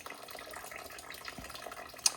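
Coolant drains from the radiator of a 1997 Toyota RAV4, a faint, continuous trickle of liquid with soft dripping and a small splash near the end.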